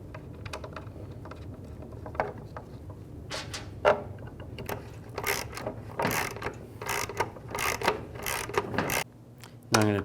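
A hand ratchet clicks in short bursts while bolts are tightened on an intake manifold adapter of a 2003–13 Toyota Matrix, quiet and close, with pauses between the runs of clicks.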